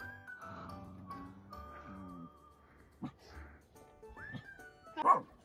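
Dog on a hillside walk in Himachal Pradesh giving whines, yips and short barks, close by, with a louder bark near the end and a person talking intermittently.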